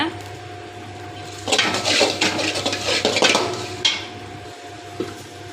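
Poppy seeds and spices are roasted in a pan over a low flame, and a utensil scrapes and clatters against the metal in a busy burst of a few seconds over a steady low background hum.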